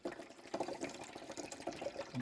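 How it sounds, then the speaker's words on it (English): Water poured into the reservoir of a Keurig Duo coffee maker during descaling, a brief trickling, gurgling fill with small splashes, quiet and close. "Adding water here, and there's no smell to it."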